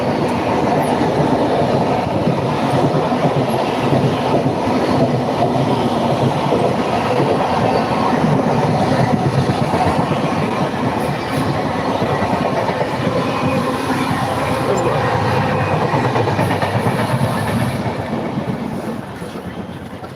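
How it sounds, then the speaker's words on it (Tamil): An express train rumbles past a station loudly and continuously without stopping, wheels clattering on the rails with a metallic screech, sustained for the whole stretch without slowing. "ஏதோ ஒரு எக்ஸ்பிரஸ் ட்ரெயின் நிற்காம போகுது."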